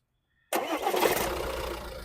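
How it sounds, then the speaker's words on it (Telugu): A 2019 Tata Harrier XM diesel starts on a single crank, catching at once and settling into a close, rough, steady diesel idle. "సింగిల్ సెల్ఫ్లో బండి స్టార్ట్ అవుతుంది సార్, ఎటువంటి స్టార్టింగ్ ట్రబుల్ అయితే లేదు."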